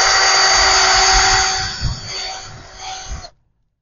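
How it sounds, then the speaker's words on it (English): Power drill fitted with a 5/8 wood bit boring a hole into an avocado tree trunk, a steady close whine with grinding texture that slows and stops after about three seconds. "Now we come with the drill."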